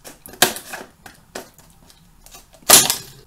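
Several sharp snipping and crinkling sounds of scissors cutting through stiff plastic packaging of a Rolson utility knife, irregular and close, with a louder crunch near the end.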